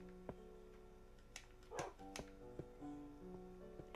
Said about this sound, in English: Is that a wild dog?